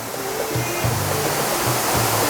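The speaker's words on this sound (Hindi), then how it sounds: "जब पानी इतनी ऊंची जगह से नीचे गिरता है" A waterfall in Muzaffarabad, Kashmir, roars as water drops from a great height: a dense, unbroken wash of sound that stays loud and close for the whole short span.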